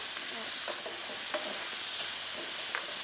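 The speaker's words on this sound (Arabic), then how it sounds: "هلا تحميص خفيف برضه للزنجبيل" Ginger toasting lightly in a pan for a lamb cream tagine gives a soft steady sizzle with occasional spoon scrapes and clinks, close and fairly quiet, with no talking.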